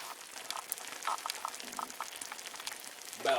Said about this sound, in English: we got sizzle there